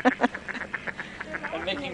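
Ducks quack on Lake Como at Varenna, a series of nasal quacks in quick irregular succession, close and clear, with a few overlapping calls toward the end.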